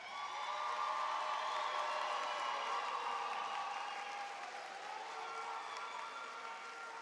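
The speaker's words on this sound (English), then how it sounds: "Let's give our MC2STEM class of 2026 another round of applause." A commencement audience for a high school STEM graduating class applauds in a long, steady wash, with cheers and whoops carrying over the clapping before it eases slightly.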